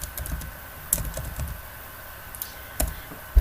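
Quiet keystrokes on a computer keyboard tap out a short word in a few irregular bursts, with a couple of sharper clicks near the end and no voices.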